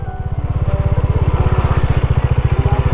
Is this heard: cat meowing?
no